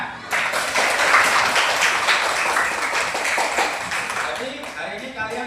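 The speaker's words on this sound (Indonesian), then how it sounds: "Tepuk tangan." Classroom applause as students clap together during a lesson on Asmaul Husna, a burst of dense, close clapping that swells and tapers over several seconds, with a teacher's voice speaking.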